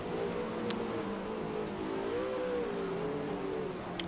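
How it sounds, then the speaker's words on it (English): Ford Mustang race car swooping past on turbo power in an IMSA GTX race at Black Cat in Assetto Corsa, heard as a steady engine whine rising and falling in pitch over a constant rushing drone, with two faint clicks. "That is the Ford Mustang, and he just swoops by me on sheer turbo power."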